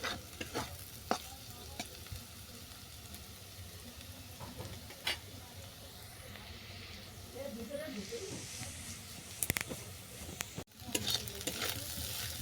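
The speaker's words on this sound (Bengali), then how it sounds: "ধুয়ে রাখা মুড়িটা ভালো করে ভেজে নিচ্ছি এটা দু তিন মিনিট ধরে ভেজে নিতে হবে" Soaked puffed rice is stirred and fried in a pan with other ingredients for muri chowmein, giving a steady soft sizzle with occasional scraping and clinking of the spatula, fairly quiet and continuous.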